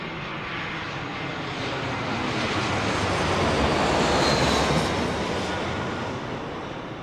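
A Cathay Pacific airliner lands on runway 27R at London Heathrow, its engines a steady broadband roar that swells toward the middle and fades slowly, heard alone without talk.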